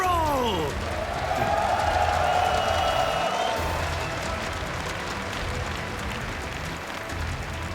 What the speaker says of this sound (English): Put your hands together for NC Sports, Cyril!